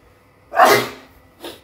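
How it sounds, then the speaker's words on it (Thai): Two sneezes in a row, a loud close burst followed after a short gap by a softer second one, with no talking in between. "ตายจามไม่หยุดเลย"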